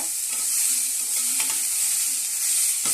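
Cinnamon, cloves, fennel seeds, bay leaf, green chillies and spring onion fry in hot oil, giving a close, steady sizzle with a few faint stirring clicks.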